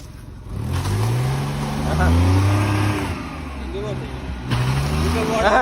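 A car engine revving up and easing off in long rising and falling swells, loud and close, with people talking over it throughout.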